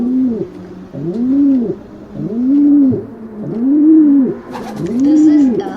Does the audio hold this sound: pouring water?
no